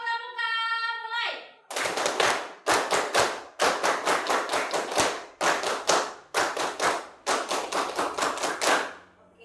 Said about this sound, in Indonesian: Oke, kita tepuk pramuka 2 kali.